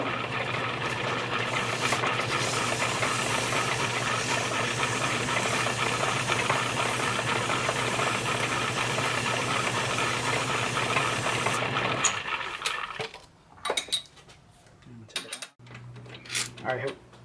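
Emery cloth is rubbed over a metal radius tool in a long, steady, dense scraping hiss that runs for about twelve seconds. A few sparse scuffs and clicks follow once the sanding stops.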